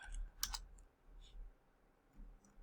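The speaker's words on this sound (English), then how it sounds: "for your dimension, type 8 and then" A few quiet, separate key presses on a computer keyboard while entering a dimension during modelling in Fusion 360, faint and sparse clicks over a low room hum.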